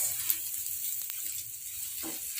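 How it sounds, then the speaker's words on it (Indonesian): Spices stir-fried in a pan without oil give a steady, soft sizzle throughout, with a faint scrape of stirring near the end. "kita tumis ya, tanpa minyak ya teman-teman"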